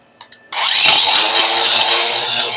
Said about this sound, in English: It's driven by a battery-powered angle grinder. And those hammers just rotate at insanely fast speed.